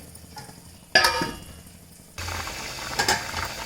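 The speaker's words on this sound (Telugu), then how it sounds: "ఇట్లాగా వెజిటేబుల్ రైస్ ఇలా బాయిల్ అవుతుంది" A metallic clank, then a steady bubbling hiss of vegetable rice for veg biryani boiling in a pot, close by and continuous.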